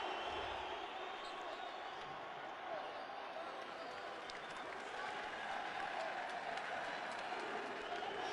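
Basketball arena crowd cheering Venezuela at a FIBA World Cup qualifier against Canada, a distant, steady wash of crowd noise and applause under an announcer's commentary.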